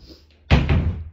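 A house door swings and closes with a single solid thunk and brief rattle, close by and loud after a faint creak.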